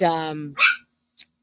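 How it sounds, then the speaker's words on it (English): Dogs bark in short sharp bursts close by, one long whining bark followed by a quick yip and a faint final chirp. "the dogs are barking."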